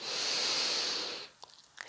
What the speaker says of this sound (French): On inspire au niveau des côtes.